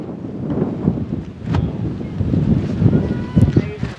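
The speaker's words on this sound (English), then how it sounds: "the wind howling in now and swirling once again" Wind howls and gusts across an open softball field, a rough, rumbling roar buffeting the microphone in uneven surges for about four seconds, with muffled voices underneath.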